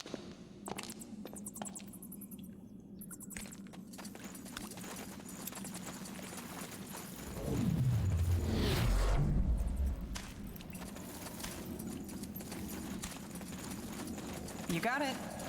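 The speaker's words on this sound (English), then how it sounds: "Do you hear that? Footsteps." Footsteps in the Spellforce 3 video game, a run of hollow clopping steps under game music, swelling louder and closer for a couple of seconds midway before fading back, with people talking around them.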